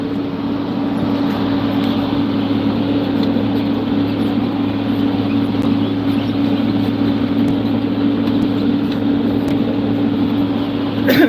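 Farm tractor engine idling steadily and loudly in a Michigan field, a constant low droning hum that holds unchanged throughout with no talk.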